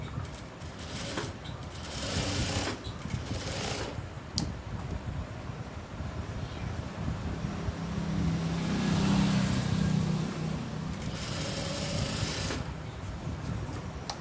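A sewing machine stitches across the front panel of a blouse, its fast whirring run rising and falling in bursts with short pauses, close and moderately loud.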